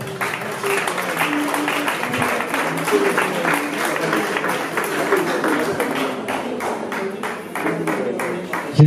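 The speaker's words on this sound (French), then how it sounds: "On l'acclame très fort." A crowd at a surprise birthday party in Pointe-Noire claps hard in a dense, steady burst of applause that lasts several seconds, with voices mixed into it.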